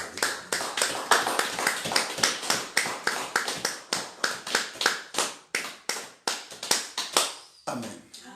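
A French-speaking church congregation applauding during a midday prayer service, brisk rhythmic clapping in a steady beat lasting several seconds before it stops and a voice briefly speaks.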